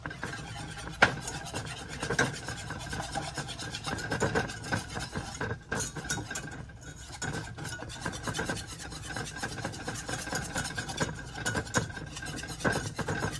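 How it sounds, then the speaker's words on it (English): A whisk scrapes rhythmically through melted butter and flour in a pan while making country gravy, a steady raspy rubbing that continues close and fairly loud throughout with brief pauses. "You're going to whisk that together until it's good and smooth"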